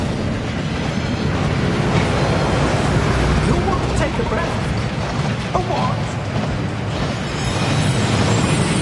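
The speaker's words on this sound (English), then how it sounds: "That waterfall washes away all enchantments." Waterfall rushing inside the Gringotts vaults in the Hogwarts Legacy video game, a loud, unbroken roar that continues beneath voices talking.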